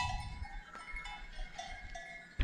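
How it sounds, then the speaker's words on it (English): Bells worn by mountain goats on a sunny mountain hike on Kefalonia clank and tinkle in a loose, irregular pattern, fairly faint and distant with open outdoor quiet around them. "We've got mountain goats on our sunny hike today."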